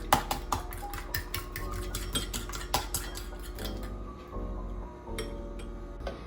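Eggs being whisked with chili powder and salt in a bowl, rapid metallic clicks of a utensil against the bowl in quick rhythmic bursts, close and clear, slowing briefly near the end, no talk.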